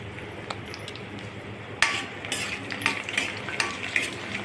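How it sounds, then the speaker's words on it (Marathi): Spicy masala sev fries in hot oil with a soft, low sizzle, then a few sharp utensil clinks and scrapes against the pan join it; nobody speaks. "खरपूस तळून घेणे। अगदी तळल्यामुळे छान खमंग होतं।"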